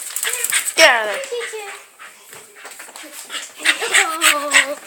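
A pitbull whimpers and yips in high, excited bursts, loud at first and again near the end, with people talking and calling to the dog over it.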